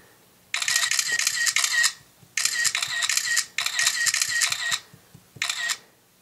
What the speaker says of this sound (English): see how quickly the shutter is on the iPod versus the iPhone